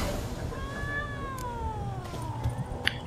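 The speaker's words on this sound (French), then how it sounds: "Il y a encore le chat qui traîne, pour vrai." Cat in The Witcher 3 video game lets out one long drawn-out meow, clear and fairly close over a low ambient game backdrop, followed by a few faint clicks.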